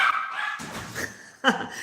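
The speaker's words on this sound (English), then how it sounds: "Sorry about the loud dogs." Dogs barking loudly nearby, a few sharp barks and yips in quick succession, close and dominant in a home setting.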